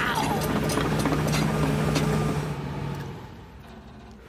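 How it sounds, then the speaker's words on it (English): A digger's engine on a building site rumbles loud and close with a steady low drone, holding strong for about three seconds before easing off. "Here comes the digger! Can you hear the engine? It's noisy,"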